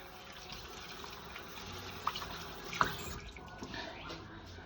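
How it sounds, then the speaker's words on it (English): Faint running tap water while hands are washed in a home kitchen after handling raw pork, a low steady splash with a couple of soft clinks partway through. "So we are washing our hands."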